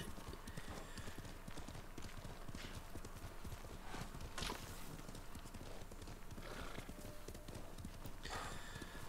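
Steady clip-clop of horse hooves at a fast pace in the video game Ghost of Tsushima, close and continuous, with an occasional whinny and some scattered background noise.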